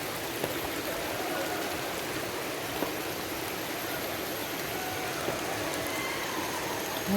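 Waterfall in Penang, Malaysia, pouring as a steady, dense broadband rush of falling water that holds constant and close throughout, with no voices over it.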